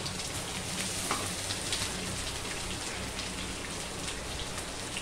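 Carrot, green chilli and potato pieces frying for upma give off a continuous, rain-like sizzle in hot oil, steady and fairly close, with faint scraping and no voices.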